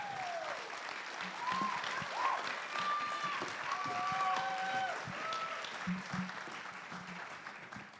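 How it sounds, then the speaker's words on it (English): An audience at a live show applauds the Changemaker Challenge winners, sustained, fairly loud clapping with a crowd murmur, while voices and brief cheers rise through it. "So one more big round of applause for our Changemaker Challenge winners."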